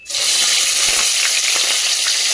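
Chopped onion frying in hot oil with bay leaf, dried chilli and a pinch of whole cumin, a loud, steady, dense sizzle that starts abruptly and runs unbroken throughout, with no voices.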